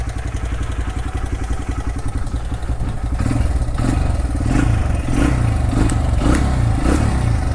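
A Honda XR100R dirt bike engine runs steadily close by, a loud continuous chugging idle that picks up in volume and pulses with a few light revs partway through, with no talking.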